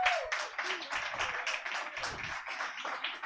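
A small audience at a comedy show claps steadily for a few seconds, the patter fairly quiet and close.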